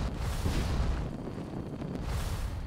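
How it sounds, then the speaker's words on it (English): Rumbling explosion in the Fallout 76 video game during online PvP, a heavy low boom sustained across the moment with wind-like noise, no voices. "Have we seen some explosion up there?"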